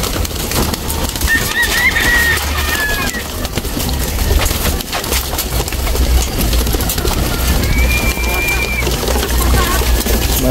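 Pigeons coo softly now and then over a steady, noisy background hum, with a couple of higher chirps and whistles mixed in.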